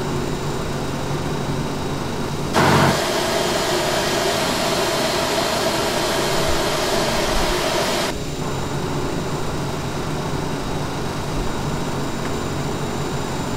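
A CRJ regional jet engine spools up in the Aerosoft CRJ flight simulator, a steady broadband whine with a louder tonal hum that starts abruptly, holds for several seconds, then drops back to a continuous roar.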